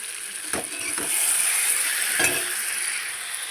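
Cauliflower florets being stir-fried in a pan for a Bengali curry, a steady hiss of frying broken by a few clinks and scrapes of a spoon against the pan, with no speech.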